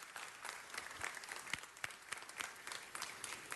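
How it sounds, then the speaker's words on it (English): Applause from a modest crowd at a Los Angeles Veterans Day 2015 ceremony, fairly faint and a little distant, with individual sharp claps standing out from a steady patter over a few seconds. "Let's give Adam a round of applause."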